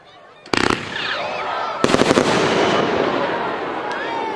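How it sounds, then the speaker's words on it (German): Big Fat Chill gold bomb tube firework fired in three shots at a New Year's fireworks product demonstration, giving sharp loud bursts followed by crackling, hissing and a long rumbling tail outdoors. "Dies ist ein großes Goldbombenrohr und 3 Schuss auf einmal gezogen."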